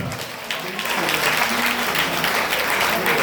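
A congregation at a day of teaching and prayer breaks into applause to acclaim the Lord, the clapping building quickly and staying loud and dense, with voices faintly beneath.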